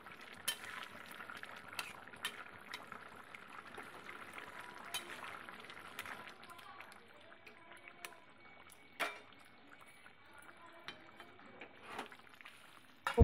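Leatha (snakehead) fish pieces simmering in a thin potato and aubergine curry, a steady soft bubbling with a few clinks of a utensil against the pot, close and moderately quiet with no talk.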